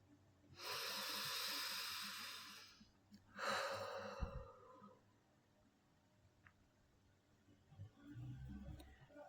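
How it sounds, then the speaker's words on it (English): A slow, deep breath drawn in and released, a long breathy inhale followed by a softer exhale, close and quiet with no talking. "take a deep breath with me"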